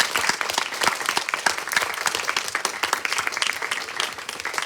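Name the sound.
applause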